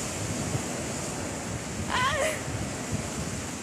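Ocean waves washing onto the shore during a summer camping trip, a continuous rough rush of surf and wind with a brief high voice cutting through midway.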